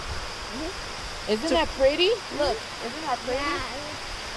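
A waterfall pours down on a South Carolina trip, giving a steady broadband rush that runs through the whole stretch while people talk over it.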